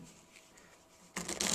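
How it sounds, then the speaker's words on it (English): Playing cards being fake-shuffled, a soft riffling burst near the end after quiet handling, close and fairly faint. "fake shuffle."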